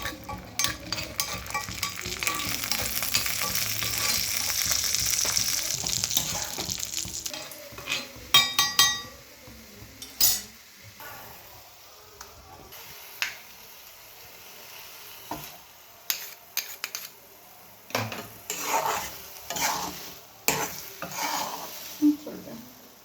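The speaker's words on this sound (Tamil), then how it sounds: "இப்படி ஒட்டாமல் வர வரைக்கும் கிண்டணுங்க" Red poha kesari with cashews and raisins is stirred in a pan, a steady scraping and sizzling that fades after a few seconds into scattered clinks and scrapes of the spoon against the metal.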